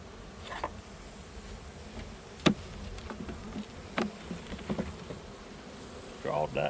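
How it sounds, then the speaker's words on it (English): Bees hum steadily inside a double beehive box, a soft continuous drone with a few sharp clicks and knocks from handling, and brief murmurs of a person nearby. "There is a fair amount of bees in it."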